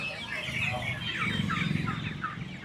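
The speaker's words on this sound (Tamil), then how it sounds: "வான்கோழியா" Turkeys gobble and cluck close by in a busy, overlapping chatter of poultry calls, with faint voices underneath, at the Friday market in Gingee.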